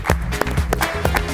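An audience applauds in welcome as comedian Zina Gabadadze comes on: a short burst of dense, steady clapping that fills the room with a few louder individual claps.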